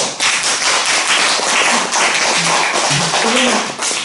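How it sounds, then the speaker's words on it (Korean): A church congregation breaks into applause during a service, a dense patter of many hands clapping for a few seconds as a voice speaks over it. "박수 한번 쳐주세요"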